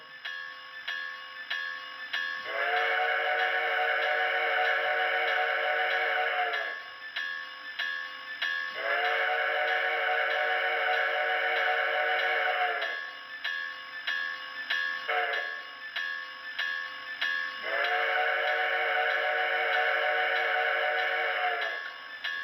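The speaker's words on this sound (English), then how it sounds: "if you want to hear the whole sequence of the grade crossing" A model train locomotive's sound system: a continuous ringing bell with repeated long whistle blasts, two long, a short toot, then another long, in a grade-crossing pattern.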